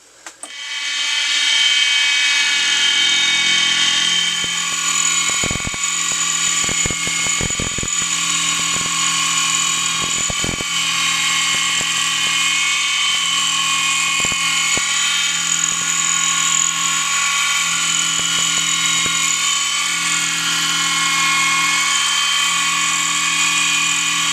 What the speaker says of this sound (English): I'll go back in here and mill this out to get that the proper width of that slot